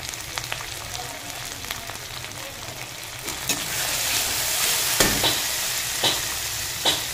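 Spice masala fries in a pan for an egg dish, a steady sizzle with scraping stir strokes at irregular moments, close and fairly loud, growing a bit hotter toward the end.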